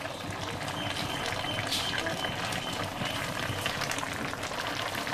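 Chicken pieces stewing in a covered pot, the lid just lifted, bubbling steadily and fairly loudly with a dense, continuous simmer and no pauses.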